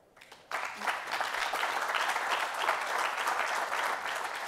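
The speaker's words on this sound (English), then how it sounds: "No more clapping until the end, okay?" Audience at an electrification panel discussion bursts into applause: a sudden swell of many hands clapping that holds steady and fairly full for about four seconds, with no voices over it.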